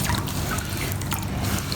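Water poured over gold paydirt in a barrel, a continuous close splashing and trickling with small drips, steady and moderately loud.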